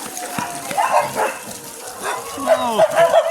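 Dogs yip and bark at a dog sanctuary in Chonburi, Thailand, a few scattered barks and whines mixed with voices talking nearby.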